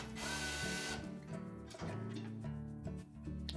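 Power screwdriver backing out the two control panel screws on an LG dryer, a close, loud mechanical whir with short bursts that stop and restart over a few seconds.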